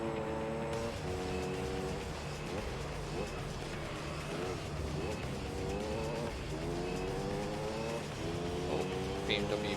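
BMW-powered race car engine in Gran Turismo 3 howling through repeated rising revs and gear changes, loud and continuous across the whole stretch, with faint tire noise and no talking.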